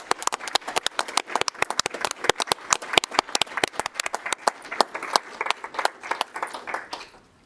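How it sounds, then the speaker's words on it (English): A round of applause at a city council meeting: sparse, distinct hand claps from a small group, sharp and fairly close, keeping an uneven rhythm for several seconds before thinning out at the end. "And I say round of applause too."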